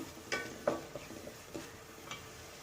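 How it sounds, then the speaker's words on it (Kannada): Masala frying in oil for egg rice gives a soft sizzle under a few quick spoon scrapes and taps against the pan, close and fairly quiet. "ಚೆನ್ನಾಗಿ ಫ್ರೈ ಮಾಡ್ಕೋಬೇಕು ಹಿಂಗೆ"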